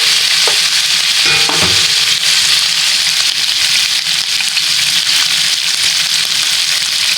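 Beef being stirred with fish sauce in a hot frying pan while cooking pochero, a steady loud sizzle with scraping stir strokes near the start, no voices.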